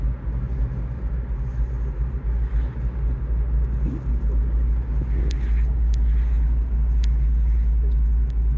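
Steady low road rumble of a 1973 Ford Mustang convertible with a 302 engine cruising along, with constant engine hum and tire noise, a few faint clicks near the end.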